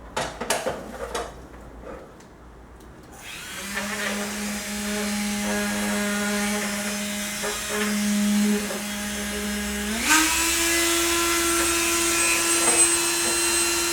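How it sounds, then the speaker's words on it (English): A standard Dremel with a cutting wheel trims the edge of a Rugged Ridge AmFib plastic snorkel for a Jeep Gladiator Mojave: a few clicks, then a loud steady high whine that steps up in pitch partway through, close and alone. "And then using just a standard Dremel with a cutting wheel,"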